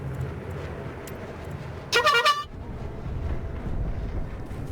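A short, loud honk-like toot from a video game cuts through a quiet, steady background hum, lasting about half a second with a few quick pulses.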